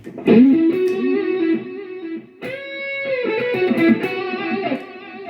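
Single-note lead phrases on an electric guitar played through a POD HD500X processor with delay and reverb, each note sustained and bent, with a pause mid-phrase and echoing tails filling the space, loud with no talk.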